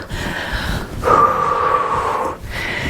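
Heavy, steady breathing after an indoor exercise session in a hallway, a few seconds of loud, close exhalations and inhalations with a sustained airy rush in the middle, no talking.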